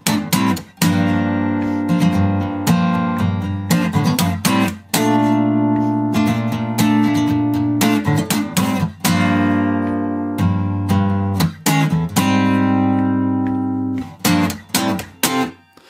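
Sustained guitar chords from the bridge of a song ring out in a steady strummed pattern, with brief pauses between phrases, played alone at a moderate, even volume.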